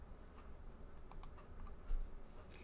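Quick, light taps on a computer keyboard with scattered sharper clicks, irregular and close by in a quiet room, with no voices.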